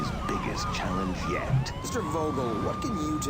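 Police sirens wail in a chase in the Saints Row 2 video game, several overlapping rising and falling tones sounding continuously over engine and street noise while someone talks over them.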